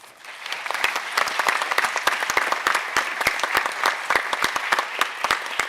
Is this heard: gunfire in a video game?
no